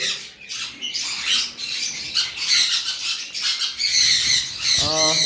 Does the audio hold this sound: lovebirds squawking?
yes